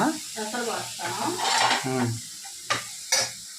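Moong dal paste is stirred into a frying mutton curry, with a few spoon scrapes and clinks against the pot under a person talking.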